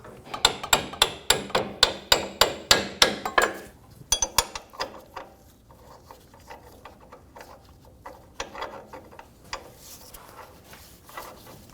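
A bolt being fitted on the rear upper control arm of a 2019-2025 Ram 2500: a quick run of evenly spaced metallic clicks, close and crisp, then scattered lighter knocks and rattles of tools and parts.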